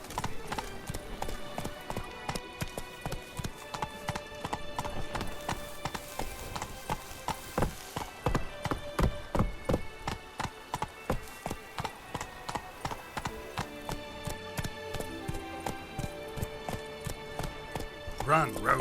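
Roach, the horse in The Witcher 3: Wild Hunt (Blood and Wine), gallops with steady, rapid clip-clop hoofbeats that run throughout, loud and close over dense in-game background sound.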